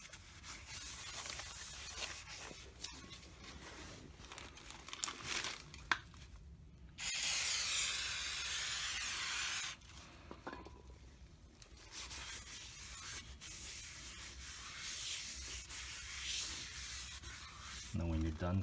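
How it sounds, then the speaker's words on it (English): A rag rubbing over a car's rear disc brake rotor, a steady close scrubbing and wiping that runs in bursts with brief pauses, including one louder, denser stretch of friction partway through. "Now when you're done cleaning your rotor"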